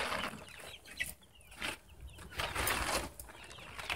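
Chickens in a mobile chicken tractor coop cluck and murmur in soft, scattered bursts, close by but quiet, with rustling and outdoor noise between the calls.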